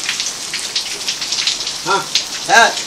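Rain falls steadily outside a house, a continuous patter and hiss with scattered drop hits, while a voice cuts in briefly over it toward the end.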